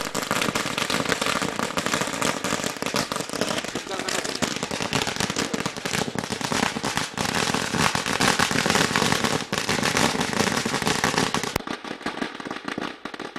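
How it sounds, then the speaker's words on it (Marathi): Firecrackers burst in a dense, rapid crackling barrage that goes on for many seconds before cutting off, with voices faintly underneath. "फटाक्यांची अतमसबाजी पाहिले गेले"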